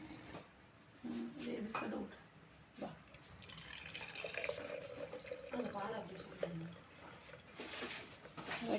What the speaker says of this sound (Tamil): வடிகட்டியாச்சு பாருங்கள்.